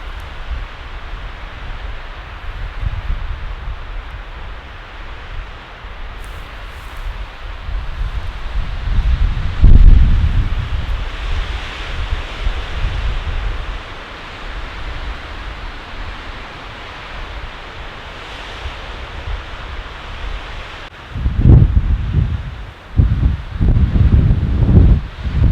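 Strong wind roars steadily through forest trees at a campsite with rustling leaves, swelling in heavy gusts that buffet the microphone with low rumbles as a storm approaches.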